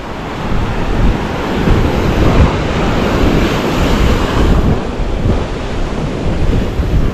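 Ocean waves at Scarborough Beach in Perth, Western Australia, roar continuously and loudly, mixed with heavy wind buffeting the microphone. No voices are heard.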